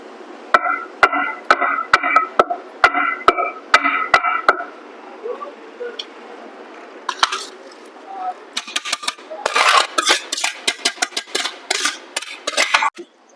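Sharp, repeated thuds of pounding cardamom and lentils in a stone mortar, steady at first, then faster and denser strokes, heard up close with a voice in between.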